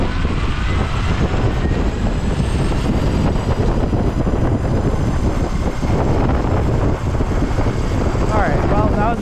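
Exway Atlas Pro geared electric skateboard accelerating from a stop at 75% throttle, a steady loud rush of wheel roar and wind buffeting on the microphone, with a rising motor whine near the end.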